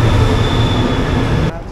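Loud, steady rumble of an overnight sleeper train rolling along the tracks from Bangkok to Kuala Lumpur, with a constant mechanical drone that drops off abruptly near the end.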